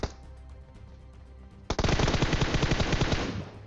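Rapid automatic gunfire in the BGMI battle game bursts out after a brief shot and a quiet stretch, a loud close run of evenly spaced shots lasting about two seconds.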